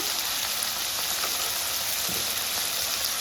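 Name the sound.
tomatoes frying for chole masala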